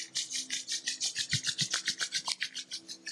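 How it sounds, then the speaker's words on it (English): Palms are rubbed briskly together close up, making a quick rhythmic swishing of about six strokes per second with no voices. "Rub your palm together"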